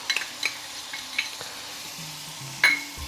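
Tomato paste fries in a hot pan for an Indian restaurant-style chicken jalfrezi, giving a steady low sizzle broken by scattered spoon scrapes and clinks, with one louder stir near the end.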